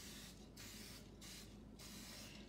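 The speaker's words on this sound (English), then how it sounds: "So I'm going to coat my muffin tin right now." Cooking spray coats a muffin tin in four quick hissing bursts with short gaps between them, close and distinct, with nobody talking.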